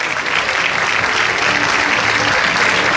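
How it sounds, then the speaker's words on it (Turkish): A crowd at an award ceremony for a charity run applauds the provincial governor, with dense, loud, continuous clapping that stays even from start to finish. "Rica ediyoruz, kuvvetli bir alkış lütfen."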